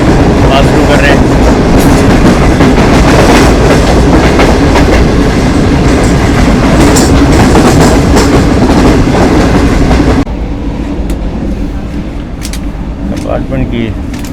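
Loud, continuous rumble and rattling clatter of a Green Line passenger train running through Bannu Aqil Cantt station on the Karachi route, heard from inside; the roar drops noticeably in level near the end.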